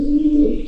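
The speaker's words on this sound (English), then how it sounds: "Turns out it was just your friendly neighborhood cave pigeon." A pigeon coos inside a pitch-black rock cave, one low hollow call heard up close and fairly loud, with a slight echo from the cave walls.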